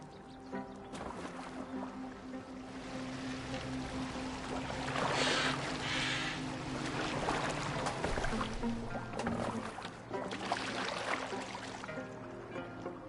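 A boat steered across water in the video game Assassin's Creed Valhalla, with a steady wash and splash of water running continuously beneath a layer of music and ambient game sound.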